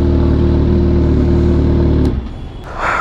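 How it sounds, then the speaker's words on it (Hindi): A Suzuki Katana motorcycle engine revs loud and close in a tunnel under a metro line, holding a steady roar for about two seconds, then cutting off abruptly, with a brief lighter engine swell at the end. "मैंने कहा चलो थोड़ा सा रेव सुना दूंगा आपको अंडर टनल पे।"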